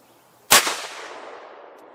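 A single Bergara MG Lite rifle in 6.5 Creedmoor firing Hornady Black ammunition, one sharp, loud report followed by a long rolling echo that fades over more than a second in open air, with no talk.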